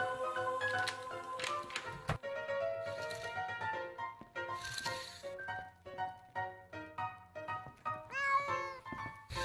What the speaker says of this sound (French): Je pense que ça devait être un chat.